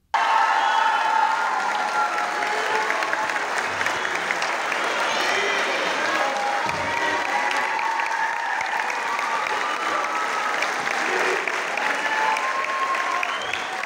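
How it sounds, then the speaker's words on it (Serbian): Audience at a folk dance concert by the Đerđev cultural society in Zrenjanin claps in sustained, thunderous applause, a dense, even roar of many hands lasting the whole stretch. "Sve učesnike publika je nagradila gromoglasnim aplauzima."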